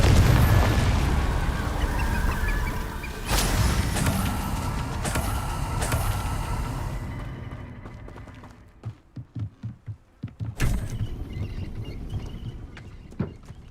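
Confringo blasting spell explosions in Hogwarts Legacy, a deep booming burst followed by rumbling, then a quick run of sharp bangs and a final heavy blast, loud and close.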